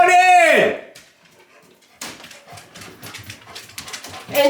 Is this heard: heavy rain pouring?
no